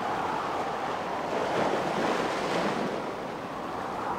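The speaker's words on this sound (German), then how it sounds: "Und das Meer wurde zu einem tosenden Ungeheuer." Storm-driven sea surge off the Dutch coast from an Atlantic storm and spring tide, heavy waves roaring in a continuous loud wash with wind buffeting throughout, no voices.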